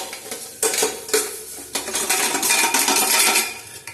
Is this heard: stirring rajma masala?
yes